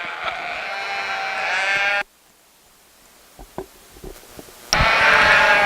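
Yearling ewes bleat loudly and close at a sheep show, a sustained cry, then a quiet gap with small clatters and shuffles before another long bleat rises again.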